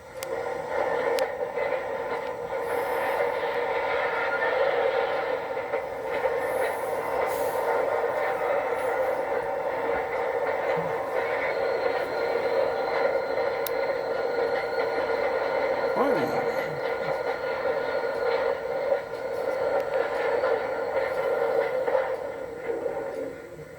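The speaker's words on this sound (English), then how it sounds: "A train with FEC power is ready to depart the yard" Florida East Coast Railroad train with FEC locomotives departing the yard at dusk, a steady low rumble and hum with faint squeals, moderately distant, accompanied by spoken narration throughout.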